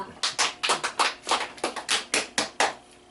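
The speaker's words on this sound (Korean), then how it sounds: "박수." A small church group claps, about a dozen distinct, crisp hand claps in an uneven rhythm, close and clear with no talk over them.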